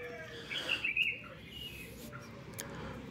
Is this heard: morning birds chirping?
yes